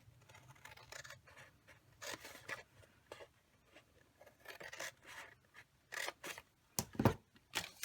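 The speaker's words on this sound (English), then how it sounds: "Cut up 2 full squares." Scissors snip through cardstock squares for a papercraft chest-of-drawers box, giving close, quiet bursts of crunchy cutting and rustling in uneven clusters. The sounds grow louder near the end.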